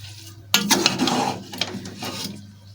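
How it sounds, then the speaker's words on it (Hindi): A spoon stirs carrot halwa with sugar in a pot, making a short run of soft scraping and clinking against the metal, close and alone. "ये चीनी डाल दी जितनी आप डालना चाहें। कुछ ज़्यादा खाता है, कोई कम खाता है। इसको हम हिला देते हैं।"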